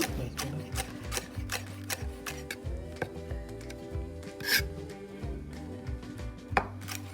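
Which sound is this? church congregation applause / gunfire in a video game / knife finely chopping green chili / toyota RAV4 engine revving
knife finely chopping green chili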